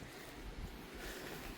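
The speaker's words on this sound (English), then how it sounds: "it's very windy. Especially now it's starting to pick up some more." Wind blows through a Zone 7B garden in Waldorf, Maryland, as very faint, steady buffeting and rumbling against the microphone, with no voices.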